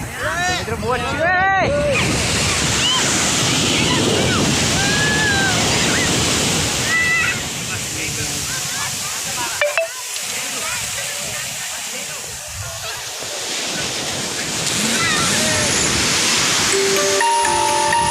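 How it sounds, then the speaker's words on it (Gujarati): Strong ocean waves crash and surge continuously at Chorwad beach in Junagadh, Gujarat, a loud broadband roar of surf with boats nearby, while a voice speaks intermittently over the water. "મોજા પણ એકદમ જોરદાર"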